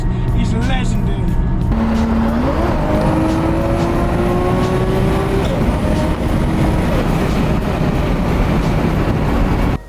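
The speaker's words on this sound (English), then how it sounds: "The noise from the RB26 is legendary." A Datsun 240Z with a swapped 645 whp Nissan RB26 engine drives past in a loud, sustained roar, revs climbing in smooth rising sweeps as it accelerates through the gears.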